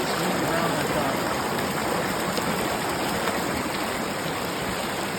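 Fast water of the upper Black River in Arizona rushing into a pool, a loud, steady broadband roar filling the whole stretch without pause, close to the listener.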